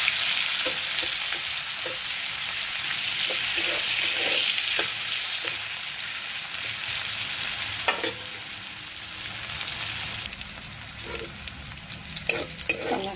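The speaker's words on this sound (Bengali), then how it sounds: "করলাটাকে ভেজে নেব ভালো করে।" Bitter gourd seasoned with turmeric and salt frying in hot oil, a steady close sizzle with occasional clatter of stirring, no voices.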